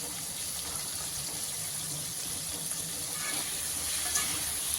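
Potatoes and tomatoes fry in a pan with slit green chillies, turmeric and salt for a vegetarian mixed-greens dish, giving a steady, even sizzle and hiss up close with no talking.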